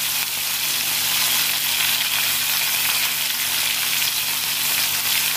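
Small-cut potatoes with salt hit hot oil with panch phoron and green chili, producing a loud, continuous close sizzle with a dense crackling hiss and occasional stirring scrapes, no talking.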